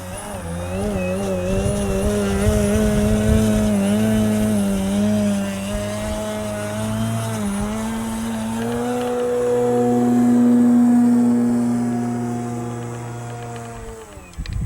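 RC aerobatic model airplane engine held in a 3D hover, a steady loud buzzing drone with shifting pitch that rises and falls as the throttle is worked, alone throughout.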